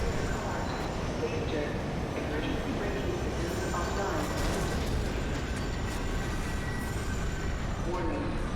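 A tram rolls along its track in the video game F.E.A.R. 2: Project Origin, a steady rumbling drone with faint squeals, continuous throughout and partly under talk.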